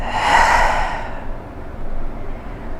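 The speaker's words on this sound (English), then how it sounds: "Inhale through the nose, exhale to release." A single slow, audible exhale through the nose during a beginner yoga flow, close and breathy, fading into quiet room tone.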